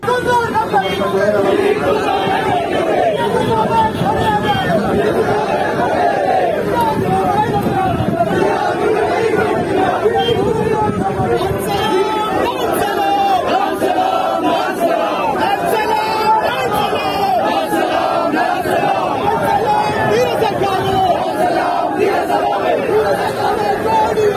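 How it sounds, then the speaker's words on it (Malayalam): A large crowd gathered in the Thalassery municipal town hall for a memorial tribute to Kodiyeri Balakrishnan, chanting slogans together. A dense, loud, continuous mass of voices fills the whole stretch. "തലശ്ശേരി നഗരസഭയുടെ ടൗൺ ഹാളിൽ തടിച്ചുകൂടിയ ജനക്കൂട്ടം ഒന്നാകെ ഏറ്റുവിളിച്ചു"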